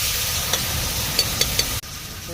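Khichdi being stirred in a hot pan: a loud, even hiss of frying with a few light scraping clicks from the spoon, then it cuts off abruptly before resuming more quietly.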